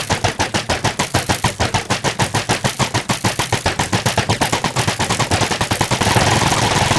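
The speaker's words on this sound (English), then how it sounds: "just wait for him to keep shooting, eventually his crossbow will break" Rapid, steady volley of crossbow shots from a trapped pillager in Minecraft, dozens of evenly spaced loud snaps repeating without pause, slightly denser toward the end.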